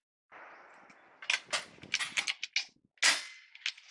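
A PCP air rifle dry-fired several times, giving sharp metallic snaps and clanks in quick irregular succession after a soft hiss, close and crisp.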